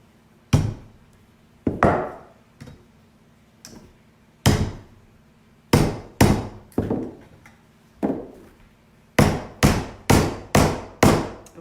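Sharp hammer taps drive carpet tacks into a rustic wooden Christmas tree, struck one at a time with short gaps, then in a quicker run of close, crisp knocks near the end.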